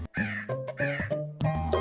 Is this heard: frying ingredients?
no